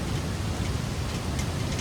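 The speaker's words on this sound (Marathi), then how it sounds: "आणि पाऊस पण किती जोरात पडतोय." Heavy rain pours down on a building in Dubai in a dense, unbroken roar close by, with a low rumble beneath it and no voices.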